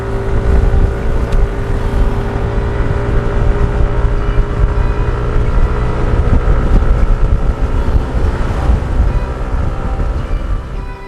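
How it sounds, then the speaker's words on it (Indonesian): A Yamaha NMax 2020 scooter rides along with a steady, droning engine hum under constant rushing wind buffeting the microphone, loud and continuous with no clear pauses or voices. "Kita gas dulu nih motor,"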